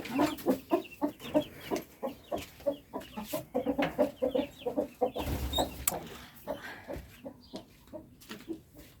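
Young chickens clucking in quick, overlapping bursts close by, with squawky outbursts as they squabble; busy, irregular rhythm throughout.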